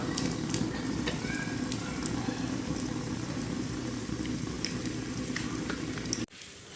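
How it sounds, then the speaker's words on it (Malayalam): Cashew nuts roast in a pan with a steady, close sizzling hiss and faint crackles throughout, stopping abruptly just before the end. "ആദ്യം നമുക്ക് അണ്ടിപ്പരിപ്പ് ഒന്ന് വറുത്തെടുക്കാം"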